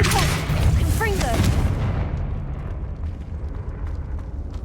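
Confringo blasting spell explosion in Hogwarts Legacy, a loud rumbling burst with a roaring tail that decays into low background noise, alongside brief game voices.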